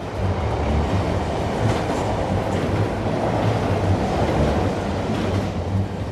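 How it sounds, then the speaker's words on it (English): Loud, continuous rattling and rumbling of a speeding Japanese commuter train, a steady, violently vibrating clatter heard from inside the second carriage. "The rattling and vibration on the train became very violent."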